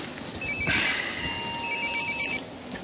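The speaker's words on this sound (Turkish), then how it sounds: "Telefon da durmadı" A telephone rings steadily indoors, its electronic tone repeating and clearly audible throughout with no voices over it.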